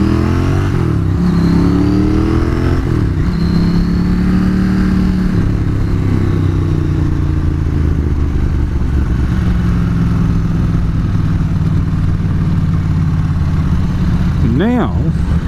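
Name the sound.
Ducati 900SS motorcycle engine riding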